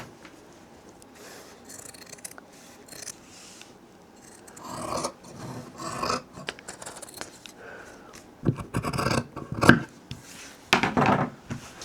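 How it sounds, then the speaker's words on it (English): Scissors cutting out a fabric pocket bag pattern piece for sewn dungarees, heard as repeated close snipping and rasping strokes that grow louder and busier toward the end, with no talking. "So now I'm just going to cut all of this pocket bag out."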